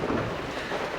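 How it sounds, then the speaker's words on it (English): Rain beginning to fall outdoors on a street in Korea, a steady dense hiss of drops close by, with no voices over it. "So it is raining."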